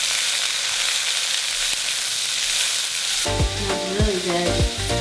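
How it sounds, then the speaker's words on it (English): Vegetables and bell peppers stir-fry in a hot pan with a loud, steady sizzle; partway through, background music comes in over the continuing frying. "How long do we fry the vegetables for?"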